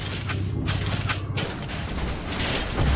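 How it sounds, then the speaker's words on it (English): Repeated shotgun blasts and impacts in the video game Mass Effect, several sharp bursts roughly every half second amid a dense, noisy combat soundscape; no talking. "Shotgun time for sure"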